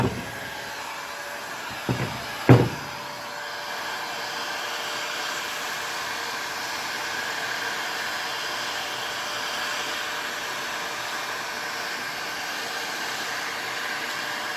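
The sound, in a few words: heat gun heating motorcycle wheel hub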